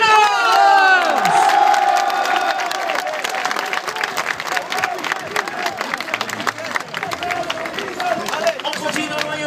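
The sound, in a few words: football fans applauding and cheering new player presentation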